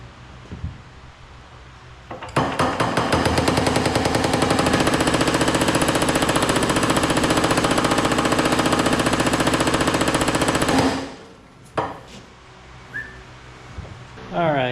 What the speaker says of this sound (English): so we did some more hammering here on this piece